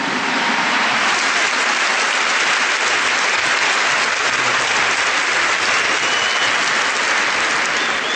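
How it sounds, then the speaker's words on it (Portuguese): A church congregation gives loud, sustained applause that fills the space with dense, even clapping, with no voice over it. "Give the Lord a big clap for this."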